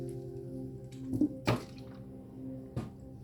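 Someone sips and swallows water near the microphone: a few soft clicks and wet gulping sounds over quiet background hum, with no talking.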